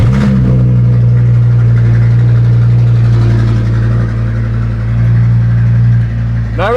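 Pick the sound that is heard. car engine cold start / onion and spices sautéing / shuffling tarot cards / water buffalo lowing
car engine cold start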